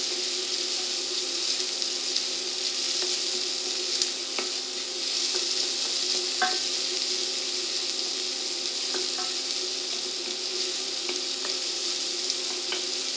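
Sliced onions cooking in a pan toward translucency, giving a loud, even, continuous sizzle with a few faint clicks and stirring touches, heard alone without talk.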